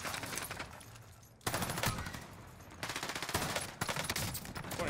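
C58 assault rifle fire in the shooter game Warzone, several bursts of rapid automatic shots separated by short pauses, loud and sharp in a busy game mix with no talking.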